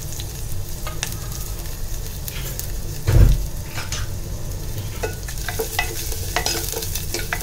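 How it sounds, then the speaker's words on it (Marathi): Garlic and finely chopped onion fry in hot oil while being stirred, a continuous sizzle broken by scraping stirs and one louder clatter midway. "आता तेल जरा तापलं की आपण लसूण आणि बारीक चिरलेला कांदा फोडणीमध्ये घालणार आहोत."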